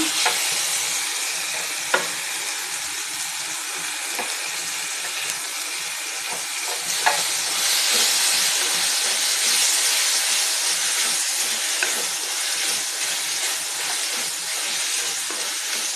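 Tomato, onion and grated coconut sauté in a pan for a village-style fish curry, giving a continuous close sizzle and hiss with occasional stirring scrapes, steady and without voices.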